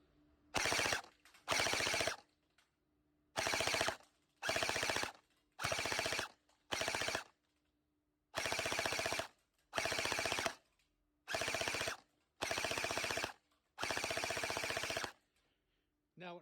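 Personal HK gel blaster with a hop-up installed, shooting at high power around 300, fires eleven separate full-auto bursts, each about half a second to a second long, with short pauses between them. The bursts are loud and close.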